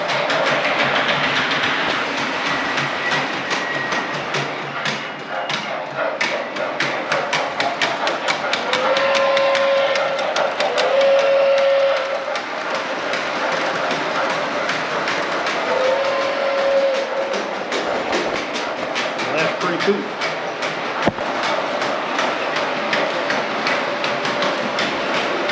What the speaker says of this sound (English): Not much point in talking over the train noise.